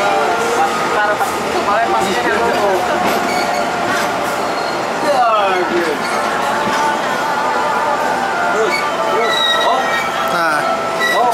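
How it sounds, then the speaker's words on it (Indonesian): The Rangga Jati passenger train rolls loudly into a station, with steady rumbling, wheel squeals and clanking close by. "setelah kereta api Rangga Jati ini masuk"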